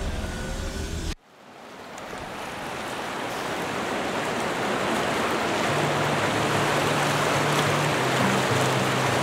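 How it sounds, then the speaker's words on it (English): River rapids at Otter Rapids in the Canadian wilderness, a very deep rapid seen from a bridge right over it, roar as a steady, loud broadband rush of water after a brief cut, building and holding strong throughout with no talking. "Otter Rapids, folks."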